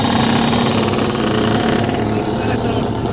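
A Yamaha Banshee two-stroke engine revving, a loud buzzy rattling drone held close and steady for a few seconds.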